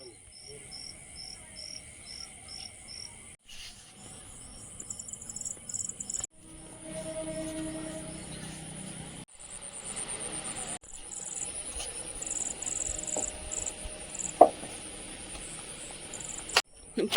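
Crickets and other insects chirp at night near a house lit up for a festival, with dense, high pulsing trills that stop and restart in bursts, plus a few faint clicks and background noise.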